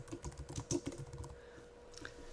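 A burst of typing on a computer keyboard, quick soft key clicks clustered in the first second, then trailing off into a few scattered taps.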